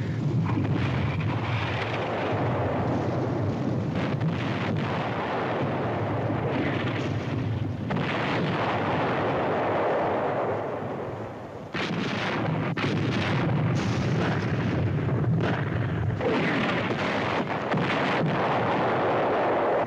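Artillery gun blown up in a wartime combat drama, a continuous loud roar of blasts and rumbling fire with several sharp bursts, dense and sustained throughout with a brief dip near the middle.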